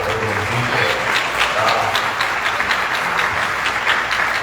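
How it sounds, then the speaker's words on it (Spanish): Sustained applause from a large congregation at an apostolic church congress: dense, steady clapping fills the whole stretch without a break. "Dale un aplauso a Dios bendito."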